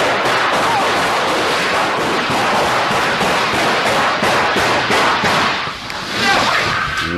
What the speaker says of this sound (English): Cops say about 20 shots were fired in 6 seconds.